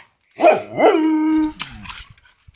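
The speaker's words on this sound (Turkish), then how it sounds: "Uluma." A dog lets out a short, rising howl close by, with a brief yip before it, then fades to quiet.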